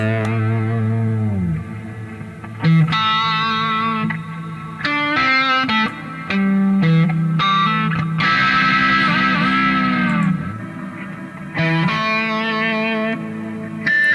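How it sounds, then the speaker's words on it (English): Electric guitar played through a compressor and a Moore Ocean Machine pedal with convolution reverb, sustained chords and single notes ringing out in a wide, washy, heavily processed space, loud and continuous with no talk. "but put the Convolution Reverb on"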